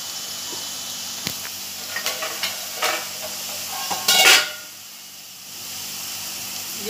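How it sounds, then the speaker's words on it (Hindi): Chopped green chillies drop into hot oil with a few clinks of a spoon against the pan, then a loud burst of hissing sizzle that settles into a softer steady fry. "जो हमने हरी मिर्ची काट कर रखी है उसे हम तेल में डालते हैं।"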